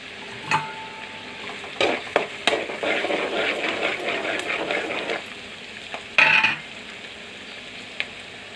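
Green chili and mint hitting a hot pan for Telangana-style chicken fry, a burst of bright sizzling that swells then fades, with scattered utensil clicks and a second short sizzle flare later, no talking.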